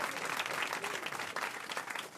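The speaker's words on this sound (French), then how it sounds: "n'applaudissez pas, c'est mon métier" Studio audience applause during a French TV comedy quiz show, a steady dense clapping that stays loud and close for the whole stretch, with no talk over it.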